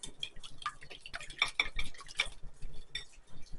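Apple fritter batter is mixed in a bowl with a utensil, giving quick irregular clinks, taps and wet stirring scrapes close by.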